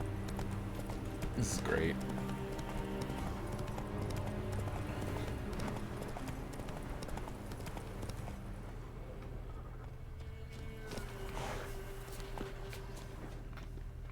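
Roach the horse from The Witcher 3 clip-clops steadily along, hoofbeats close and rhythmic under a constant game soundtrack, with a brief neigh early on and someone talking over the top.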